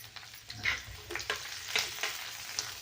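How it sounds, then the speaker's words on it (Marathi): Onion dry-roasting in a pan for a spiced gram-flour dumpling curry gives a steady, close sizzle broken by repeated scraping stirs, with no talking. "चला मग मी आता कांदा घेते भाजून"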